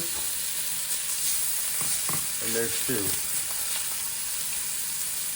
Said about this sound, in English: So that steam is coming off the steaks and you hear that sizzle.